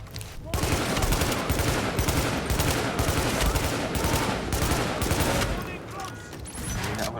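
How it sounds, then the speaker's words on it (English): Dense gunfire in the shooter game The Division, with shotgun blasts mixed into sustained volleys and bursts that go on almost without a break and stay loud throughout. "We have another shotgun user."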